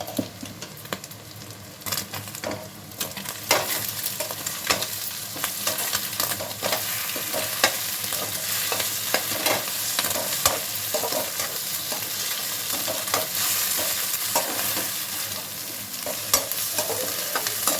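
Eggs fry in hot oil with a continuous, close sizzle and crackle, punctuated by frequent scraping stirs and light taps of a utensil against the pan.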